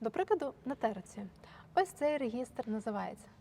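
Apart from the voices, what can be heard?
No everyday noise stands out behind the speech.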